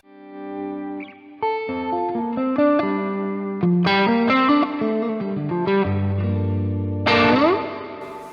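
An electric guitar played through a GFX10 multi-effects unit amp model runs a melodic, distorted phrase of sustained single notes and chords, washed with chorus and echo, loud and up front, with no talking.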